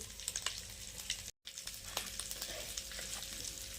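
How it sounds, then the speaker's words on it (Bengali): Chili powder and turmeric powder sizzle in hot oil in a pan for a fish curry, a steady close crackling fry with a brief silent gap partway through. "তেলে দিয়ে দেবো লঙ্কার গুঁড়ো এরপর দিয়ে দেবো হলুদ গুঁড়ো"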